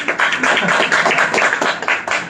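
A crowd at a Bhagavad Gita lecture claps steadily and densely throughout, loud and close.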